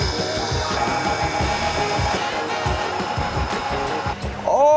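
A tool post grinder mounted on a metal lathe grinds a steel part down to a fine finish, giving a steady close whine with a rhythmic pulsing underneath, then a rising whir as it spins up near the end.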